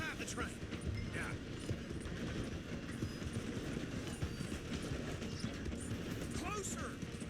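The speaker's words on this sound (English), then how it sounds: "The train is slowing down to go through the station." A train in Red Dead Redemption 2 rumbles steadily along the rails with a dense rolling clatter, loud and continuous throughout, while voices speak over it.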